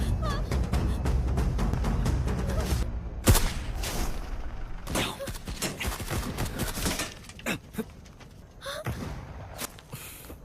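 Bursts of gunfire and heavy thuds punctuate a dense, loud action scene, with scattered sharp bangs and rumbling impacts that gradually thin out.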